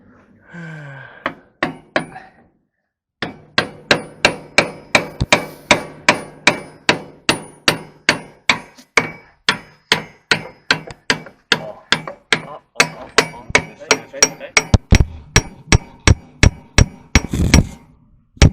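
A hammer strikes metal in a long steady series of sharp, ringing blows, close and loud, with a brief voice near the start, during front suspension air spring replacement on a MAN TGX truck.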